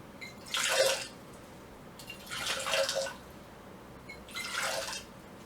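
Hot water for tea is poured from one vessel into another to cool it, three separate pours of a couple of seconds each, close and gentle, with quiet pauses between and no voices.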